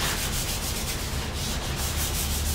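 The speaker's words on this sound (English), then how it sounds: "a light sanding" Steady, close scratchy rubbing of 600-grit sandpaper lightly sanding a wood finish, a continuous even hiss with no pauses or voices.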